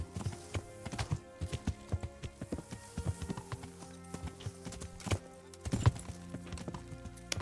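Horse hooves clip-clopping in the medieval video game Kingdom Come: Deliverance, a quiet irregular trotting rhythm with occasional heavier hoof strikes.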